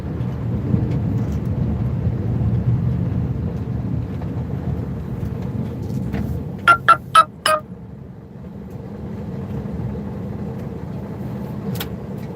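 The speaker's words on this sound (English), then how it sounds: "and you hear that beeping sound" Four short electronic phone notification beeps in quick succession ring out over the low rumble of a snowplow driving in heavy snowfall, then one more beep a few seconds later.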